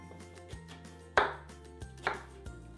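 Knife slicing food on a cutting board while preparing chicken curry, a few sparse, close, crisp cuts with quiet gaps between them and background music underneath.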